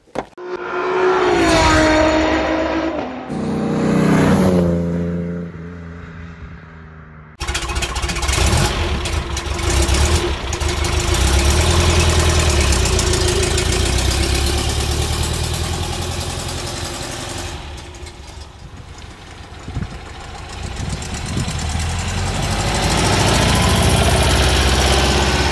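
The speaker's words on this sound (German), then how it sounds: "So, da werde ich mal starten, fahren wir mal los." A 1964 Porsche 356 SC Cabriolet engine catches and settles into a steady, loud, close idle, a continuous rumbling drone that runs for about twenty seconds after a short tonal lead-in, with no voices.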